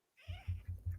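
A cat meows in a short, close sequence of about four quick, insistent calls, with no talk over it.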